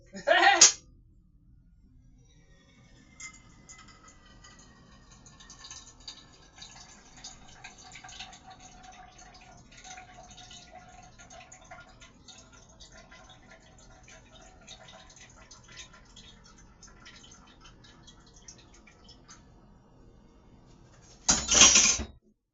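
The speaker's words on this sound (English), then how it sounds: "Be sure to wash your pot off on the bottom" Water runs steadily for a long stretch while the bottom of a cooking pot is rinsed, bracketed by louder clattering bursts at the start and end as the pot is handled.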